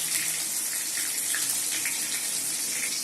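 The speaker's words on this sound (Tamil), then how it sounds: "இந்த கத்திரிக்காயும் உருளைக்கிழங்கையும் தண்ணியில் போட்டிருந்தோம் இல்லையா, அதை நல்லா அலசி எடுத்துட்டு" Eggplant and potatoes are rinsed in water for a Tamil dry fish curry, with a steady, close wash of running, splashing water that continues evenly throughout.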